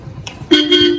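A single short, bright honk from a motorbike horn sounds nearby, held for about half a second after a faint click.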